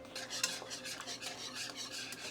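A utensil stirs beef bouillon into brown gravy in a pan, giving quiet, steady scraping and swishing strokes in a regular rhythm, close up with no voices.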